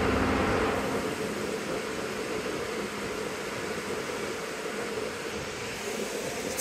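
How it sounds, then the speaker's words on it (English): Hydrogen fuel rushes into a car at a hydrogen fueling station, a steady broadband hiss that holds evenly for several seconds with no talk. "Sounds like hydrogen's going in."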